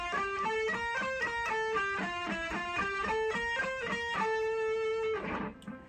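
An electric guitar plays a quick scale run from a song's riff, a steady stream of separate picked notes with a distorted tone, ending on a sustained note that fades.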